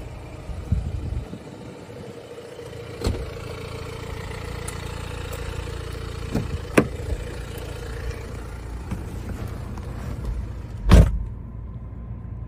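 The electric boot of a BMW X1 diesel runs open with a low motor whir that carries on steadily beside the idling car, broken by a few sharp clicks and a loud clunk near the end.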